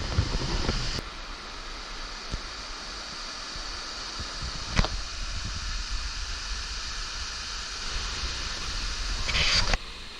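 Steady broadband rushing of the waterfall at Nixon Creek, Binna Burra, heard from nearby, continuous and moderately loud with some wind buffeting and a few brief knocks, no talk.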